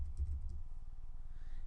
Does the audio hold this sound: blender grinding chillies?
no